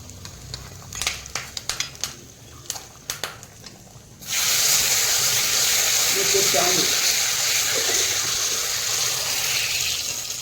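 Water poured into a hot cooking pan: several light taps and clicks, then a sudden loud, dense hiss that holds steady for several seconds.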